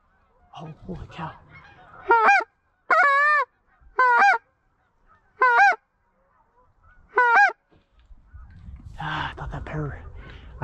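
Geese honk five times in loud, separate calls, spaced about a second apart, during an afternoon hunt over an ice hole spread. Someone speaks quietly before the honks, and rustling and noise follow them.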